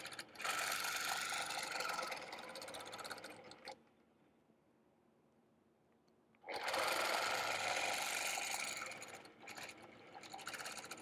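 A sewing machine stitching a quilt, running in two long steady whirring bursts separated by a quiet pause of a few seconds, then short stop-start runs at close range.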